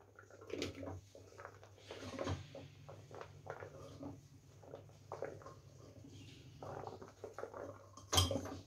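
Thick chunks of bottle gourd tumble into a pressure cooker in a home kitchen, giving a series of close, irregular clunks and metallic clinks with a steady low hum underneath and a sharper knock near the end.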